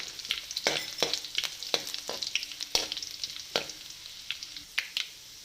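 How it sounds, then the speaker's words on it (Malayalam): Chopped shallots and dried red chilli fry in hot oil for a Kerala sadya ginger curry, inji puli: a steady bright sizzle broken by sharp spatula scrapes and taps, close and fairly quiet, with no talking. "അതിൻ്റെ കൂടെ നമുക്ക് അരിഞ്ഞു വെച്ചിരിക്കുന്ന ചുവന്നുള്ളി ഇട്ട് കൊടുക്കാം. ഇതൊന്ന് ചെറുതായിട്ട് വഴന്ന് വരുമ്പോഴത്തേക്ക് നമുക്ക് ഒരു വറ്റൽ മുളക്"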